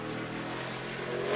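NASCAR truck engine at full throttle during a 2022 qualifying run, a steady high-pitched roar held loud and close with a slight swell at the end.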